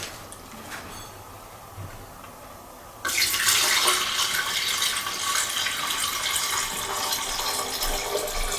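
Water pours steadily into a pico reef bowl for aragonite sand, starting abruptly partway through as a loud, continuous close-up gushing splash after a quiet stretch.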